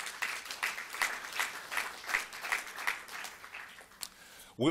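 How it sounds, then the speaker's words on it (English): Faint, distant applause from an audience at a panel on infrastructure financing in Africa, the claps falling into a fairly regular rhythm and ending with a brief louder thump. "A round of applause for our three panelists, please."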